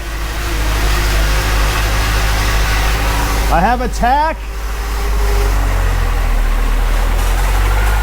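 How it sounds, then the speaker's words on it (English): A car's engine idles steadily after being brought back to life, a constant low rumble filling the whole stretch while someone speaks briefly over it partway through. "It's idling down."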